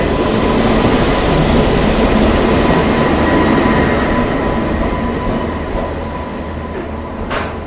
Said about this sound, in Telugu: సో ఇప్పుడే మనకు వచ్చేసి ప్లాట్ఫామ్ 5 వచ్చేసి మనకు గోదావరి సూపర్ ఫాస్ట్ ఎక్స్ప్రెస్ అయితే వచ్చింది.